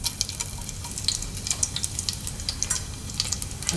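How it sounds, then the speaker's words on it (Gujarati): Spices and red chillies tempering in hot oil for a Gujarati vaal and potato curry, a close, crackling sizzle with small popping bursts throughout. "તેલ હવે ગરમ થઈ ગયું છે આપણું. તો એમાં આપણે બીજા મસાલા નાખીશું."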